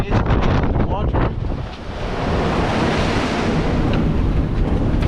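Strong wind of around 40 knots roars over a sailboat at sea in the Bay of Biscay, with crashing waves and heavy rushing wind noise on the microphone, loud and continuous, without speech.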